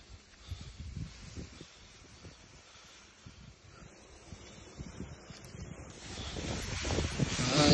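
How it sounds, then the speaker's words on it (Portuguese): Gusting wind buffets the microphone outdoors near a field while a kite is flown, a steady rushing roar that swells louder toward the end, with faint scattered knocks and no voices. "Ai, vento!"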